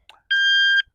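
A single short electronic beep from a shooting timer, one clean, steady half-second tone, loud and close, in a quiet room.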